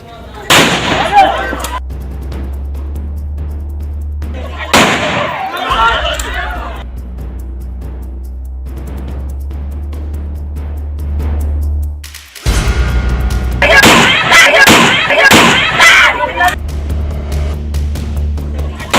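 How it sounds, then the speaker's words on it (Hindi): Sharp gunfire bursts in a Hindi news report on violence in the Chambal region of Morena, loud cracking volleys clustered in several bursts over a rumbling low background. "चंबल की धरती गोलियों की आवाज से थर्रा उठी"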